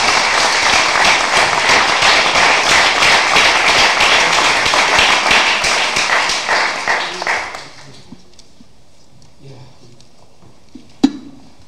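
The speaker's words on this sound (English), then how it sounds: "And I'd last ask everybody to give an applause for Lem Tissot." Dense, loud audience applause for Lem Tissot at the launch of a social pedagogy professional association, sustained for several seconds before tapering off into a quiet room, with one sharp knock near the end.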